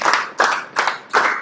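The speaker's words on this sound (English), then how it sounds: "And add some clapping." Four firm hand claps during a qigong exercise workout, evenly spaced about every 0.4 seconds, close and crisp with no talking.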